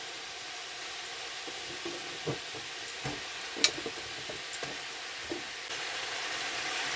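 Cut stalks sauté quietly in a pan for fish curry, a soft continuous sizzle broken by scattered stirring clinks and scrapes, with no voices.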